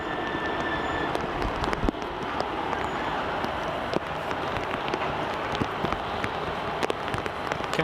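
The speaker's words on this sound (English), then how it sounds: "Can really hear the rain coming through now on the microphone. It's getting heavier." Rain falls on an outdoor microphone at Sydney Airport during plane spotting, a dense, steady hiss with scattered crackling drops, getting heavier, with no voices.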